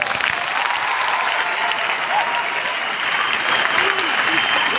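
Audience applause at a Rootpure Diamond promotion event, a continuous, loud and even crowd clapping that fills the whole stretch, with faint voices underneath.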